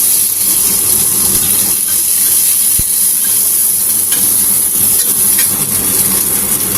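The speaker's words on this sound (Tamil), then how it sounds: "இப்போ இந்த வெங்காயம் போட்டுக்கலாம்" Onions dropped into hot sesame oil with spluttered cumin in a kadai set off a loud, steady sizzle that hisses without pause, with occasional faint stirring taps and no speech.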